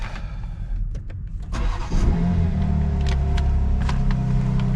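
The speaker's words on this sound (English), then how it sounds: "Let me give y'all boys a little cold start" A BMW M2 G87 starts from cold. A few clicks and a short crank come first, then the engine catches with a loud burst and settles into a steady, deep, rumbling high idle up close.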